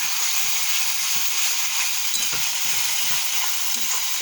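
A spice paste with chili powder fries in a pan, giving a steady loud sizzle throughout with soft stirring scrapes underneath, heard close.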